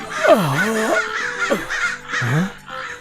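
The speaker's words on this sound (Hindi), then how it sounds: "तभी अचानक कौवों की काव काव से उसकी नींद टूट जाती है।" Crows cawing in a storytelling sound effect: several harsh, rising-and-falling caws in quick succession, loud and close, with no talking over them.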